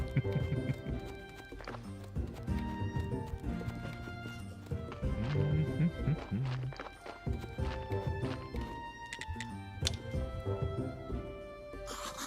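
A donkey in the video game Graveyard Keeper, with soft clip-clop hoof steps and a whinny-like call over background game music and sounds at low volume.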